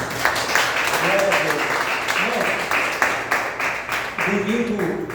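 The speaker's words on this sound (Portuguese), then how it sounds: "Aplauda ao Senhor" A church congregation claps in praise to the Lord during a worship service, with rhythmic clapping running throughout and voices calling and singing over it.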